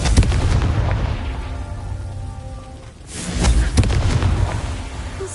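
A Confringo fire spell blasts in Hogwarts Legacy with a loud, roaring burst. A second heavy boom follows about three seconds in, over dense game ambience.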